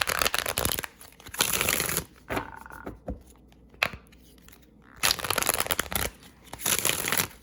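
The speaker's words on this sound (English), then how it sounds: "I'm going to shuffle this really quickly" Tarot cards are shuffled quickly in several bursts of rapid riffling and flicking, close up, with short quiet pauses between them.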